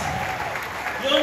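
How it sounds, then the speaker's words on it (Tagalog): Audience applause at a gathering event, a short stretch of crowd clapping mixed with voices and a rising tone near the end. "Pwede ba palakpakan natin yung easy?"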